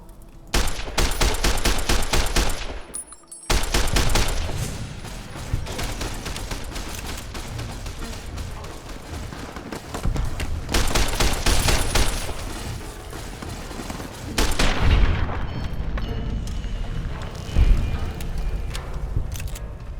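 Rapid gunfire from a Fallout: New California game fight, with dense bursts of automatic fire and shots rattling almost without pause, close and loud, broken by one brief quiet gap.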